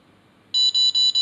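A handheld remote controller for an MJX Bugs 3 Mini drone beeps as it is switched off, giving a close, loud series of short high electronic beeps in quick pulsing bursts after a brief quiet moment.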